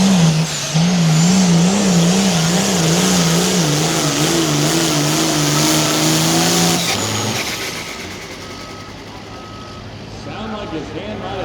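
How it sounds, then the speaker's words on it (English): An 8,500 lb limited pro stock pulling truck roars down the track at an outdoor truck pull, its engine note wavering, then cutting out abruptly as the turbocharger unloads, leaving a quieter rumble under an announcer's voice. "You heard that turbocharger unload."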